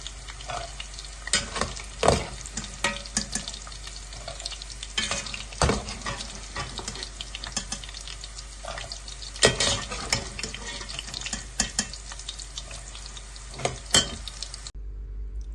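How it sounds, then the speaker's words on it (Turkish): Liver sizzles and crackles steadily in hot oil, with frequent stirring clatters and scrapes of a utensil against the pan. "Aynı yağda ciğerlerimi kızartacağım."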